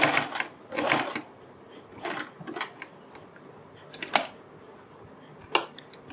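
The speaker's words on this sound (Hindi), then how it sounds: "मैं इसी के साथ इस पट्टी को सिल रही हूँ" A sewing machine stitches a fabric strip onto a kurti neckline in short mechanical bursts of whirring and clicking, separated by quiet pauses, close by with no talk.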